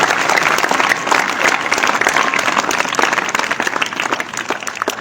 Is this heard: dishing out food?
no